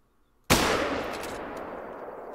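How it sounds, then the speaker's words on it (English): A single loud rifle shot from a .270 hunting rifle in a hunting video game, a sharp crack followed by a long rolling echo that fades slowly over two seconds. "we might just go for a shot with the 270"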